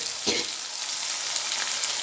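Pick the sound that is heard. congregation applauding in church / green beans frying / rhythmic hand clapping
green beans frying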